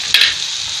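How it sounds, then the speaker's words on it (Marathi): Soaked, washed lentils (dal) tipped into a hot pan, giving a sharp burst of sizzling and frying that settles into a steady hiss, with faint stirring and no voices. "याच्यामध्येच आपण आता डाळ टाकून घेऊया।"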